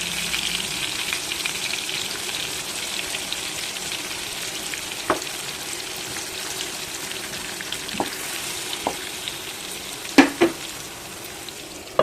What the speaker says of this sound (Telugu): ఇలా ప్రతి కాయ కూడా వేయించుకోండి బాగా.